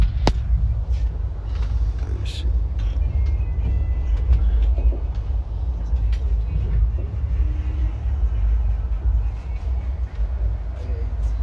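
A passenger train arriving at Guntakal Junction, a steady low rumble of rolling carriages with faint rattles and a sharp click early on, while a voice briefly talks over it.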